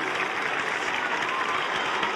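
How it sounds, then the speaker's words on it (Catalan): A crowd claps in strong, sustained applause at an outdoor Christmas lights switch-on event in Palafrugell, a dense continuous patter without voices. "Un fort aplaudiment també per totes elles"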